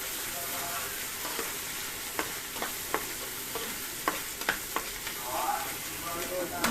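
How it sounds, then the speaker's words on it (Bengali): Spice masala for pointed gourd biryani fries in a pan with a constant, close sizzle, punctuated by scattered clicks and crackles as it is stirred. "মশলাটা কষিয়ে নেব,"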